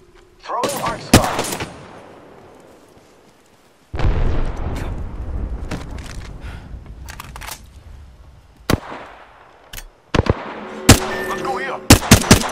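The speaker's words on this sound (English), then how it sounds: "Throwing arc star." An arc star grenade from Apex Legends goes off amid game combat: loud sharp cracks and bursts at the start, a sustained rumbling stretch in the middle, then more rapid impulsive pops and zaps toward the end, with no talk.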